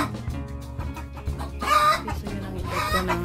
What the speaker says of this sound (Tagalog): ang epekto ng pag-aagawan ng mga inahin sa isang pugad.